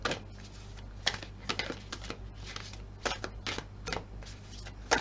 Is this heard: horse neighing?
no